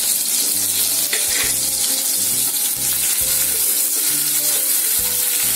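Mixed vegetables and capsicum stir-fry in a hot pan for idli fry, with a loud, continuous sizzle and repeated scraping, tossing strokes of a spatula in a steady rhythm.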